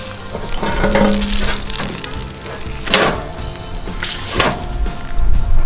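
Meat sizzles loudly on a hot Camp Chef Explorer griddle, and a few thumps and scrapes from a spatula flipping it break up the steady frying hiss.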